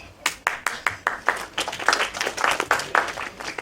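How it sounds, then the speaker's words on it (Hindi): Light, scattered clapping from an audience at a speech event in India, a sparse patter of individual claps building into a thin, uneven applause that stays moderately quiet. "बहुत हल्की तालियां बजी।"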